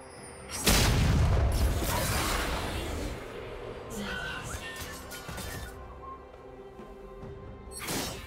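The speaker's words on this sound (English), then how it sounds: "Red team's turret has been destroyed." In a League of Legends match, a turret is destroyed with a loud crashing boom followed by rumbling debris and game effects, then a fainter impact near the end.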